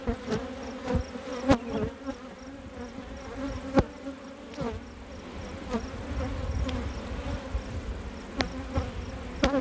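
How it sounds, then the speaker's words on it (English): Steady, dense buzzing of a large honeybee swarm in August filling the whole stretch, a continuous drone with occasional sharper clicks and bumps close by. "this was a pretty big swarm"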